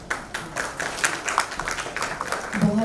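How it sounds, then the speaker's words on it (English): Applause for honoured dignitaries seated on the dais at the inaugural session of an MSME conference, moderately loud clapping from a crowd. Faint voices are mixed in and a brief vocal tone rises near the end. "let's have a huge round of applause for our honorable dignitaries"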